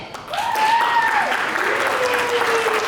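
A pageant audience gives the contestants a steady round of applause, with a voice speaking over the clapping throughout.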